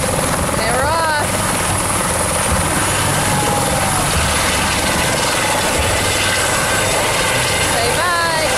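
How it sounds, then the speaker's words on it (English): A Lifeflight medical helicopter lifts off with a loud, steady rotor thrum and whine close by, while voices chatter faintly beneath it. "Thank you for letting us use the helicopter."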